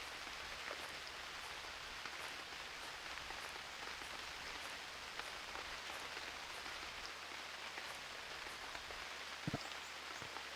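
Rain falling in the UnReal World video game makes a steady, even hiss of drops striking surfaces, constant and moderately loud throughout with occasional sharper drips and a brief low thud near the end.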